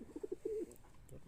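A red-gear pigeon coos softly at close range in a pigeon loft, a brief run of low throaty coos with no voices.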